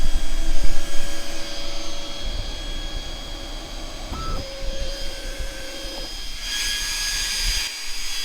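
An AlgoLaser Alpha 20W laser engraver runs with a steady mechanical whir and hum, with faint tonal whines and shifting motor pitch from the moving head throughout.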